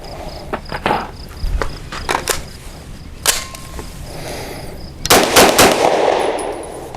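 Loud, irregularly spaced gunshots from a Grand Power Stribog 9mm carbine firing Federal HST 147 grain ammunition outdoors, sharp cracks with a faint steady insect chirp underneath.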